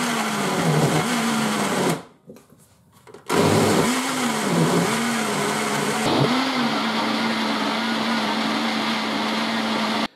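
An old kitchen blender purees carrots, garlic and tomato juice, a loud continuous motor whine with wavering pitch as it strains, briefly stopping for about a second before starting up again and running steadily.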